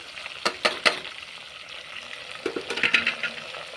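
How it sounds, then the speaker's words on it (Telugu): Tomatoes, bay leaves and mint fry in a pan for chicken biryani, a close, continuous sizzle broken by a few sharp stirring clicks and scrapes. "ఇలా బాగా ఫ్రై చేసుకోవాలి"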